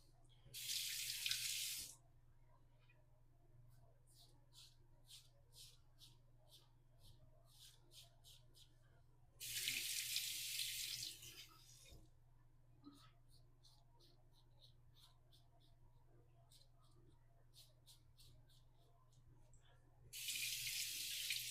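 Cartridge Mach 3 razor rinsed under a running tap, three separate bursts of gushing water between quieter stretches with small clicks and taps of the razor, steady low hum underneath.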